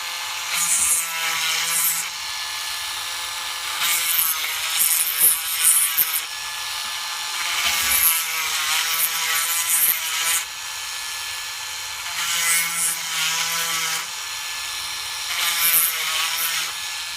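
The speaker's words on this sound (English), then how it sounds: "So basically just try to grind off a little bit more." A rotary tool grinds open a hole in a Tamiya mini 4WD part for a Japan Cup style body damper on a VS or S2 chassis, a close, loud whining buzz in repeated bursts of a few seconds each, with no talking.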